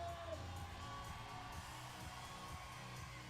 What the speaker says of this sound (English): Crowd making an awful lot of noise here for Cheon-soo.